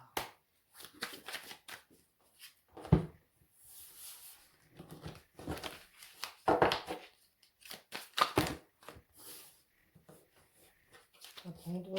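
Oracle cards are shuffled by hand in short, soft riffling bursts with pauses between them, heard close and quiet, while a voice speaks intermittently.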